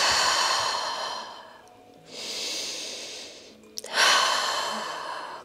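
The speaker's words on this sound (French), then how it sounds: "Concentre-toi sur tes 3 respirations." Slow, deliberate breaths during a Pilates exercise: a long airy exhale, a pause, then a fuller inhale and another strong breath out, close and clear with no speech.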